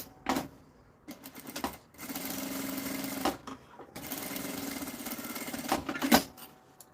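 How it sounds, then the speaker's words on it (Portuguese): A sewing machine stitches a zipper onto a fabric pouch in several runs of rapid mechanical whirring, separated by short pauses and a few sharp clicks, close and clear with no talking. "nesse cantinho de cá eu vou costurar o outro zíper"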